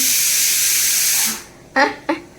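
A pressure cooker whistle releases steam in a loud, sustained hiss that cuts off abruptly, followed by two short bursts of a voice.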